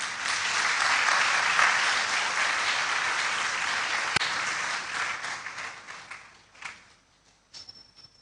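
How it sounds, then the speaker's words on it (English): Sustained applause from a large audience, dense and steady, then tapering off into scattered claps near the end. "I believe we can applaud our speaker better"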